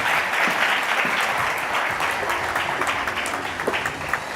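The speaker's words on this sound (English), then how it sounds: "Please give them a round of applause once again." Audience applause for a conference panel on data and trends, a full, sustained burst of clapping from a sizable crowd that slowly thins toward the end.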